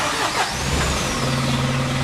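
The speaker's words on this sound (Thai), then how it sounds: "เดี๋ยวผมสตาร์ทเครื่องแล้วจะกดให้ฟังนะครับ" A six-wheel dump truck's large diesel engine turns over and settles into a loud, steady idle close by, with a deep low rumble.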